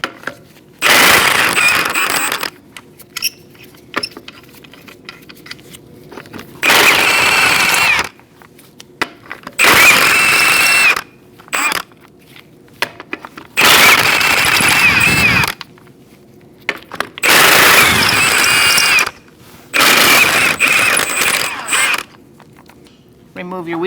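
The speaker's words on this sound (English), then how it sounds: "Using a 19mm socket, we're going to remove our wheel." A power impact tool or ratchet removes the wheel lug nuts on a 2004-2012 Chevrolet Colorado with a 19mm socket, sounding in several loud, close bursts of a few seconds each with quiet gaps between them.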